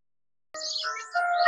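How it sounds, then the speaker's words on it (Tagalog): A short burst of bright bird chirps and warbling notes, close and clear, starting after a brief silence, by the sea in Seogwipo on Jeju Island, South Korea. "saka yung huni ng ibon"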